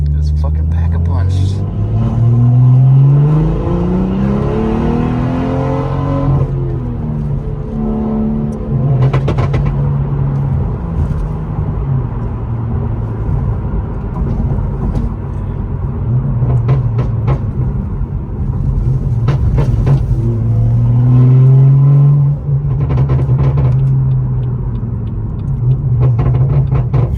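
A tuned BMW M240i running Stage 3 software revs hard through the gears, its engine note rising and falling continuously while sharp exhaust pops and crackles snap in between, with people talking loudly over the cabin drone.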